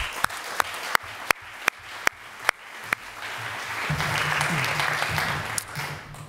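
Warm audience applause at a Dutch event, opening with a few loud, isolated claps spaced apart before many hands join in a steady, sustained wash of clapping.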